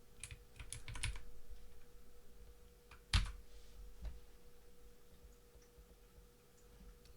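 Quiet typing on a computer keyboard: a quick flurry of key clicks at first, one sharp louder tap midway, then sparse isolated taps fading into near silence, no talking.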